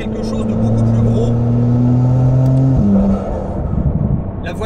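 RML GT Hypercar 950 hp engine revving loudly close by, a sustained climbing drone that shifts pitch sharply near the three-second mark, then settles into a rougher idle-like rumble; someone talks over it.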